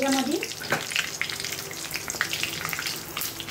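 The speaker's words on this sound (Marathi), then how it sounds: "आता मी प्रथम ह्याच्यामध्ये अख्खा खडा मसाला टाकत आहे।" Whole spices sizzling in hot oil in a pan for prawn biryani, a steady close frying hiss with a few light stirring clinks, no talk over it.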